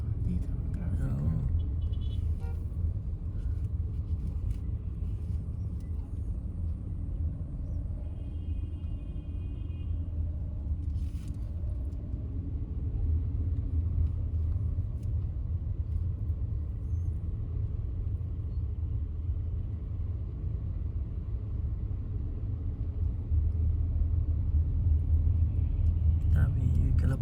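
Morning road traffic rumbles near the Madinah market in Saudi Arabia, a low, continuous drone of passing cars and engines with an occasional higher mechanical tone, heard from inside a vehicle while people talk.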